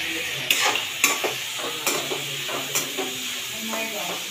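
Capsicum stir-fries in a pan for noodles, a sizzle under a series of sharp spatula scrapes and clacks against the metal at an uneven, roughly half-second rhythm, heard up close.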